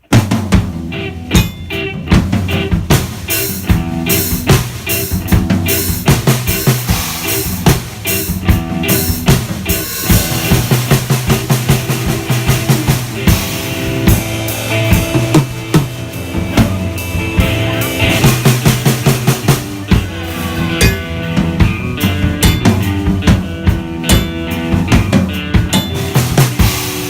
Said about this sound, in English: I reorchestrated it by playing that 2 and 4 on the edge of the low cowbell